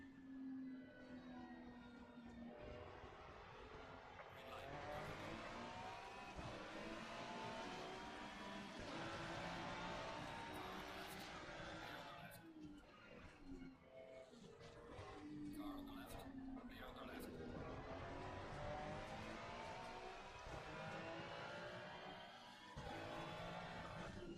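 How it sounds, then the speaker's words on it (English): Ferrari 296 GT race car in Assetto Corsa Competizione, Open Series GT at Zandvoort: engine note rising and falling through gear changes for about twenty-four seconds, moderately loud, with a voice talking over it at times. "We are running the Ferrari 296 in Assetto Corsa Competizione."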